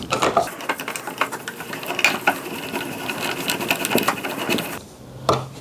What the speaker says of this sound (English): Now you can screw your outlet in